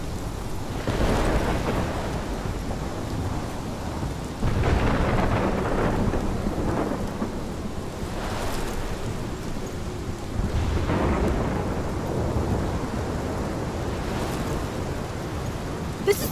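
A thunderstorm in the video game Life is Strange rumbles with repeated deep thunder rolls over steady heavy rain, swelling and fading several times across the stretch.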